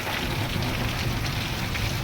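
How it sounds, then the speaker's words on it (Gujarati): Steady rain roars in a thick wash of noise, with gusty low rumbling beneath it, continuous and close: a downpour with strong wind during a thunderstorm in Bodeli. "ભારે પવન સાથે ધોધમાં છે તે વરસાદ ચાલી રહ્યો છે"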